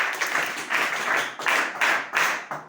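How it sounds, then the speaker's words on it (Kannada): Loud applause from a crowd of college students at an NSS camp, a dense wash of clapping that surges in several waves over a few seconds, with no one talking over it. "ನಿಮಗೆ ಜೋರಾಗಿ ಚಪ್ಪಾಳೆ"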